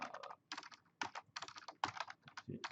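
A computer keyboard clatters in quick, uneven bursts of keystrokes with short pauses between runs, as commands are typed into network device configuration; close and fairly quiet.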